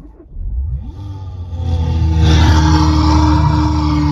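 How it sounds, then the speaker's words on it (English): A car engine cranks and catches, then revs up and holds a rising, loud mid-pitched roar close to the listener. "Start your engine."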